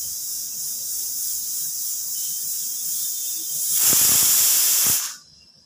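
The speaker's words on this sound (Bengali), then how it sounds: "তো আমি প্রেসার কুকারে একটা সিটি দিয়ে রেখে দিয়েছি, ডালটা সেদ্ধ হতে থাক।" A pressure cooker boiling lentils in plain water hisses steadily with steam, the jet swelling louder and harsher for a couple of seconds near the end before it abruptly cuts off to near quiet.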